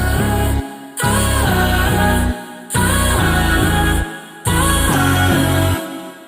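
Layered vocal chops blend over a deep, punchy bass in a trap-style beat, with loud repeating bars that cut out briefly between phrases, no talking.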